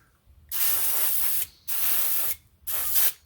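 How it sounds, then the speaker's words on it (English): WD-40 sprayed onto a cotton swab while servicing a leaking Coleman stove fuel valve, heard as three short, close hissing bursts separated by brief pauses. "Little WD-40 on a Q-tip to lube up the passage."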